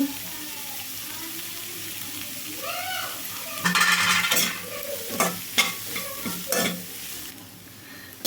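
Carrot, beans and cabbage stir-fried with salt in a pan for egg fried rice: a steady sizzle swells midway, with scraping spatula strokes and clatter close by and no talk.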